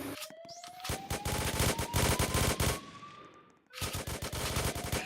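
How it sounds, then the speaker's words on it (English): Rapid automatic gunfire outside a press room, long loud bursts of repeated shots with a rising whine, a brief lull near the end, then more firing. "What is all this shooting, man?"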